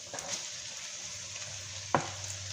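Leftover cooked rice hitting a hot pan for fried rice, a steady broadband sizzle with one sharp scrape or clink near the end and a low hum beneath.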